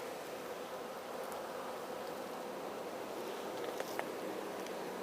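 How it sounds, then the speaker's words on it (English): Honey bees from a spring swarm hum around a hive entrance in a continuous soft, even drone, with a couple of faint ticks near the end. "There's enough bees around the entrance to be giving off the pheromone there"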